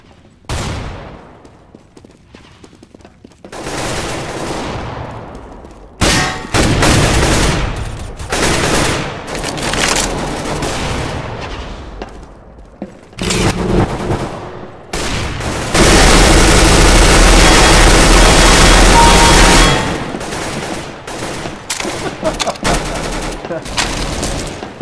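Gunfire from Counter-Strike: Global Offensive, with dense bursts of automatic fire and single shots through the match and a long, loud sustained volley near the end. Players' voices come through at times.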